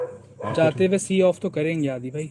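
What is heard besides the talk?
dogs barking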